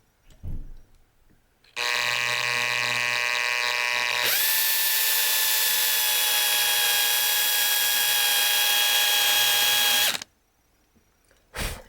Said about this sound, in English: go slow to get the hole started, otherwise the drill bit's just going to run across it